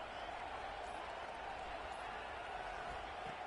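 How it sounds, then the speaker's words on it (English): A large football stadium crowd roars continuously during a late-game red zone defensive stand, a steady distant wash of cheering and noise that stays even throughout. "This crowd is trying to inspire this defense to make a big red zone stop."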